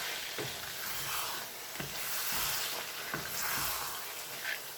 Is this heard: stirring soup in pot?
yes